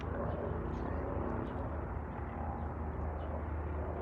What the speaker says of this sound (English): I hear another helicopter right there.